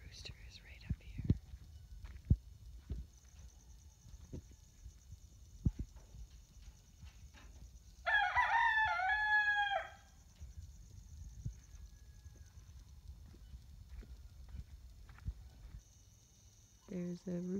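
A rooster crows once in the middle distance at 4:30 in the morning beside a family compound in Ghana, a single drawn-out call over quiet background with faint shuffling noises.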